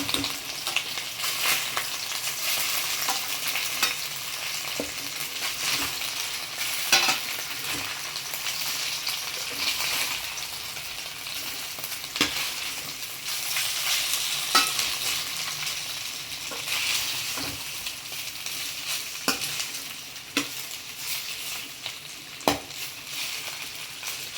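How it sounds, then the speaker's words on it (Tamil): Spicy butter garlic chicken pieces sizzle and crackle steadily in a hot pan as they are turned one by one, with sharp clicks of the utensil against the pan breaking through the continuous frying hiss. "இப்போ நம்ம வந்து சிக்கனில் ஒவ்வொன்றா திருப்பி போட்டுக்கலாம்."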